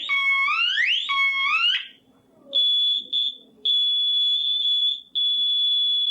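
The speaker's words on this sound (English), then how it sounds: "There are different types of smoke detectors. A couple of sounds. This is one sound." A smoke detector alarm sounds loud and close, first as rising, warbling electronic sweeps, then as sustained high-pitched beeps broken by short gaps.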